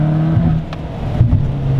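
An Abarth 595C Competizione with 180 hp and a tuned exhaust revs near and loud, its engine note rising and dropping in short throttle blips.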